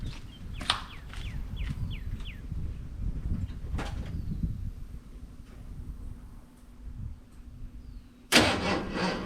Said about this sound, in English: I'm gonna see if it'll start